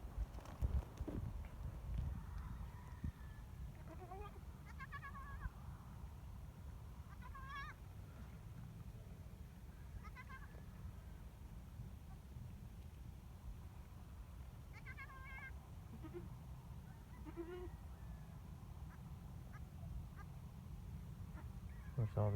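Goats in a birthing pen on a farm bleat intermittently at a distance, faint nasal calls scattered over a steady low rumble of background noise.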